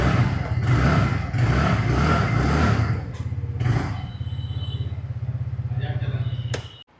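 A TVS Ntorq 125 scooter, 2025 Super Squad Soldier Edition, idling close by with a steady low exhaust thrum. It swells with several short throttle blips early on, then settles to an even idle before cutting off, with someone talking over it.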